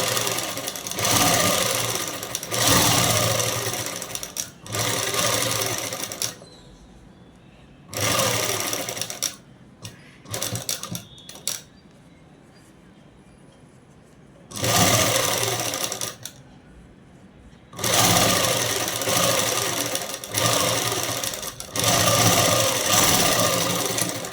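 A sewing machine top-stitches a dress in long, steady whirring runs of several seconds each, stopping and starting with quiet gaps between bursts.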